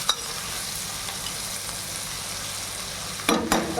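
Bitter gourd fries in a pan with a constant close sizzle, then a couple of sharp stirring scrapes near the end.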